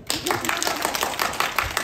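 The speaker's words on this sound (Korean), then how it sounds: "박수 한번 쳐주세요" Audience clapping during a health lecture on a thigh exercise, a steady patter of many hands in a room, moderately loud and continuing throughout the short stretch with no talk over it.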